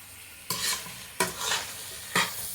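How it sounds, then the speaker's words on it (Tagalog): Prawns are stir-fried in a hot pan. Three sharp bursts of sizzle come as the prawns are tossed, each starting with a scrape and fading, over a quieter background hiss, close and without talk. "haluto tayo ng stir fried na prawns, mga kababayan ko"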